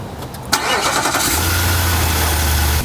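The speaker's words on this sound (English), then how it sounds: "we can hear that V8 start up" A 2020 Nissan Armada's V8 engine, remote started, cranks and catches with a sharp burst, then settles into a steady, low, rumbling idle close by.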